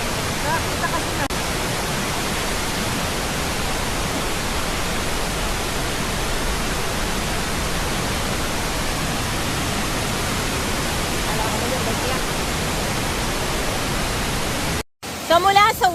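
Waterfall near Maapon in Lucban, Quezon, a loud continuous broadband rush of falling water heard close, steady throughout before a brief cut near the end.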